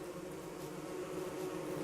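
Steady, dense swarm of bees buzzing in the Don't Starve video game, a continuous droning hum that stays loud and even throughout with no voices.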